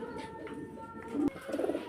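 Afshan grizzle pigeons, a pair with two chicks, coo softly nearby, low throaty warbling calls repeating, with a brief sharp click partway through.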